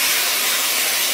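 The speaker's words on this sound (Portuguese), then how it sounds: "Agora eu vou jogar água quente, ó." Hot water poured into a hot pan of rice sends up a loud, continuous hissing rush of steam, steady and close throughout.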